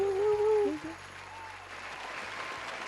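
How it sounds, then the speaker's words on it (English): Crowd applause sound effect swells as a broad wash of clapping, moderately loud, with a tonal jingle-like sound layered over the opening second. "The crowd goes wild."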